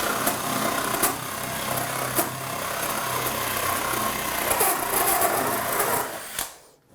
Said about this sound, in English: I like to drill with a bit of a rolling motion.